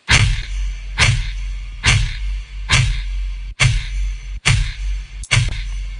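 Seven sharp flick hits come at an even, roughly one-second pulse, each trailing into a dark resonant tail from delay and reverb, loud and alone.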